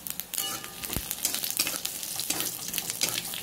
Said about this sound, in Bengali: এবার দেব তেজপাতা এক টুকরো আর শুকনো লঙ্কা দেব এক টুকরো, দুটো দিলাম। এবারে দেখো গোটা জিরে দিলাম।